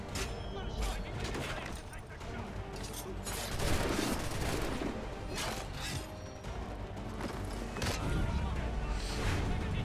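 Gunfire aimed at the player aboard a ship in Assassin's Creed 3 on Xbox 360 crackles in dense, overlapping bursts amid loud mechanical battle noise, continuous and close, with someone talking over it.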